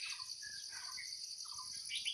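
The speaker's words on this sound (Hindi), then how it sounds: "ये देखिए, चिड़ियों की प्यारी सी चहक के साथ इनकी शुरुआत होती है गांव में।" Small birds chirp and tweet in a rural village in the morning, their short calls faint and scattered over a steady high insect buzz, with no talk.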